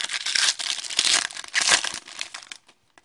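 The foil wrapper of a hockey trading card pack being torn and crinkled open up close, loud rustling bursts for about two and a half seconds, then a couple of faint ticks and quiet.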